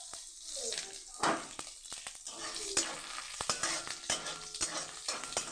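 Dried red chillies, green chillies and cumin seeds crackling as they hit hot oil in a wok, a rising hiss with sharp spatters and spoon taps, close and fairly quiet, with a voice partly underneath.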